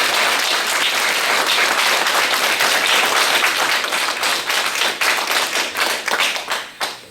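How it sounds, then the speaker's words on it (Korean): Loud, sustained audience applause at a Catholic mercy and recovery seminar, dense clapping from a crowd that holds steady and then thins into scattered claps as it fades out. "우리도 함께 그 아버지께 감사하는 박수 드립시다"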